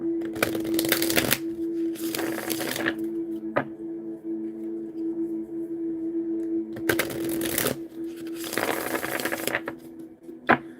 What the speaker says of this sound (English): So we're going to shuffle 3 times.